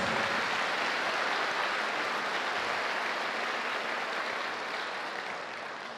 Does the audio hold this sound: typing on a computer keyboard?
no